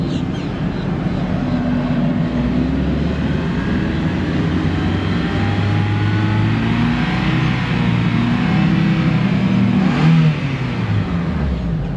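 A Honda Element engine with a VTEC fault is held at elevated revs, around 3,500 RPM, as a steady, continuous hum close by with no talking.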